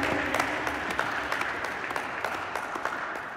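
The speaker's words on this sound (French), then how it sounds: "Applaudiert." Church congregation applauding during a bilingual French-German worship service, a steady wash of hand claps with sharper individual claps standing out, sustained for several seconds with no talk over it.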